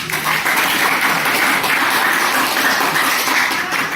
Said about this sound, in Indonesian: tepuk tangan dulu untuk kelompok A